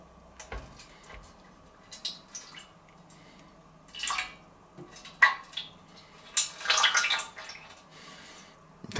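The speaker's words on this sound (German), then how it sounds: "Und zwar hier unten ein bisschen Wasser einfüllen" Water is poured into the lower water tray of a grill in short, close splashing bursts, separated by quiet gaps with a few drips and light clinks.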